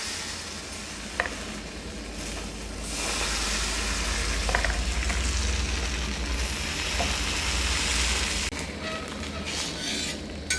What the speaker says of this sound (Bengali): এর মধ্যে দেবো আমি সাদা তেল। এরপর আমি পরোটাগুলো ভেজে নেব।